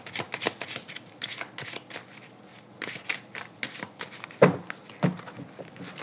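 A deck of oracle cards being shuffled during a love-themed tarot reading, with repeated crisp riffling bursts and flutters close by, no talking.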